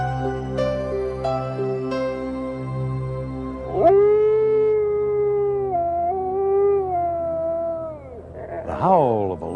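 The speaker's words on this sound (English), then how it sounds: "The howl of a lone wolf is a haunting sound that can fill your imagination with fear." A lone wolf howls in long, wavering, rising and falling tones that sustain for several seconds, loud and close, with a tonal backdrop underneath and a final upward-sweeping cry.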